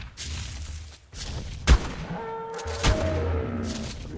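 A gun fires in the Ark Fjordur video game: two sharp, loud booms about a second apart over a rumbling background of game noise.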